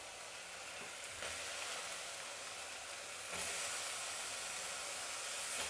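Brinjals go into hot frying masala in a pan, bringing a steady, bright sizzling hiss that grows louder in steps as they land and settle, close and continuous with no talk.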